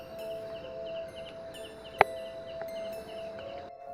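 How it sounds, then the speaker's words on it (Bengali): Crickets chirp at night near an isolated house, a faint, steady high trill in repeated short pulses over a quiet background, broken by one sharp click midway. "তোমরা ঝিঝি পোকার আওয়াজ এবং বুঝতে পারছো যে ঠিক কতটা রাত হয়েছে"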